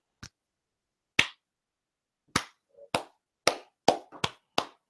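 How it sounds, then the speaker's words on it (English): Slow, deliberate hand claps, sharp and separate, starting sparse and gradually speeding up over a few seconds, each clap crisp and close against silence. "they're going to get the slow clap"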